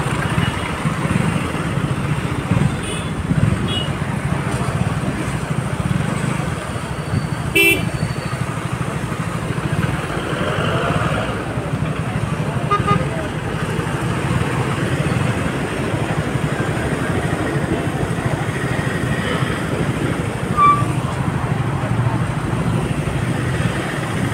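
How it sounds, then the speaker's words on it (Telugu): Road traffic heard from a KTM Duke motorcycle ride between Hyderabad and Warangal: constant engine and wind roar with occasional short horn toots in the mix, loud and continuous throughout. "ఇక్కడ ట్రాఫిక్ రోడ్ ఉంది."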